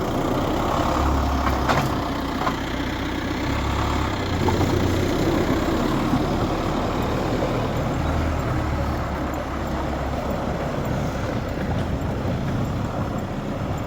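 An MTZ tractor engine idles in -20 degree frost outdoors, a loud steady low diesel rumble running continuously and evenly, with some wind buffeting on the microphone and no speech.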